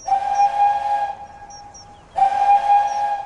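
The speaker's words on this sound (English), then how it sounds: "Spencer whistled long and hard." Steam engine whistle blowing in two long, loud blasts separated by a short gap, with a faint hiss of steam underneath.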